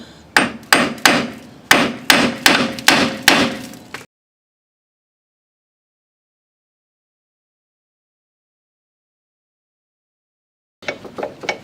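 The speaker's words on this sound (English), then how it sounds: "I might tap that once or twice while I still have the nut on the end of it" Hammer striking a stuck suspension arm bolt with the nut still on, on a Suzuki, about ten sharp metallic taps in quick rhythm, close and loud, then silence and a few more taps at the end.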